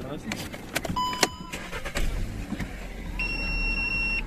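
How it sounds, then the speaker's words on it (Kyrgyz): A Skoda Octavia engine being started, with a starter whir and clicks followed by a steady idle, with someone talking over it. "Машинаны оталдырабыз."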